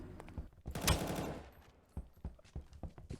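AR rifle gunfire in the Roblox shooter Aimblox, a dense burst of rapid shots near the start followed by scattered single game shots and effects, loud and close.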